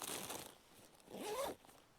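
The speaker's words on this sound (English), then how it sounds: "the very top of the lid, which has its own access zip over here, so you can break straight in" Zip on the lid pocket of a 2022 Osprey Exos 48 rucksack slides open in one quick, scratchy pull, moderately close and fairly quiet, with a short rustle before it.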